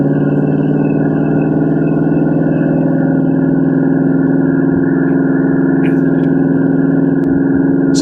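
A 1969 Ford Mustang Mach 1 cruises at a steady pace, its engine giving a constant mid-pitched drone from inside the car, with a few faint clicks and rattles over the top.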